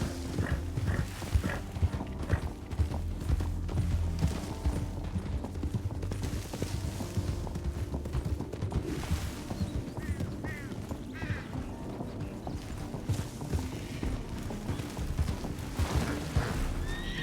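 Horse hooves clip-clop and a whinny sound in a Red Dead roleplay game, fairly quiet amid layered game ambience.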